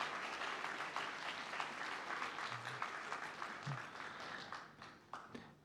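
Sustained applause from a large audience at a diploma graduation ceremony, steady dense clapping that carries on throughout before thinning out near the end.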